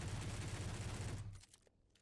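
A rapid-fire weapon in the Space Engineers video game shoots a sustained, loud burst of fast repeated shots that stops abruptly after about a second and a half, leaving faint scattered echoes.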